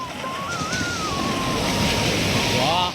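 Sea waves roll onto the shore at Ganpatipule in a steady, loud wash of surf with wind buffeting the microphone and a few faint bird chirps above the roar.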